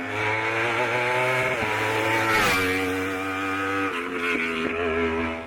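A Grip G1 race car leaves the start line of the Rampa da Falperra hillclimb with a loud, high-revving engine howl, climbing in pitch through quick gear changes as it pulls away.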